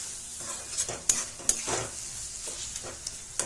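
Spice masala frying in a pan on medium heat while a utensil stirs it, giving a soft sizzle broken by sharp scraping clicks at irregular intervals, close and fairly quiet with no talking.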